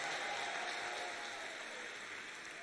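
A church conference congregation applauding together, a dense, steady wash of clapping that holds for nearly three seconds and tapers slightly, heard at a moderate distance with no voices over it.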